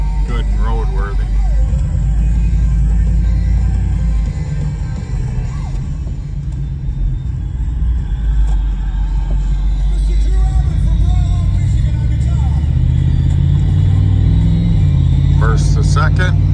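A 1992 Chevrolet Blazer 4-wheel drive rumbles along on the road, its engine pulling and easing as it shifts through the gears, heard from inside the cab with a voice talking over the steady drone.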